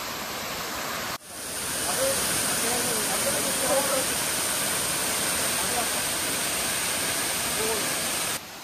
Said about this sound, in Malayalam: നല്ല പരന്നൊഴുകുന്ന ഒരു വെള്ളച്ചാട്ടം